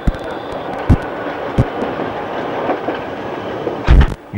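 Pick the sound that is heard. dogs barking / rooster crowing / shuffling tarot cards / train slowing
train slowing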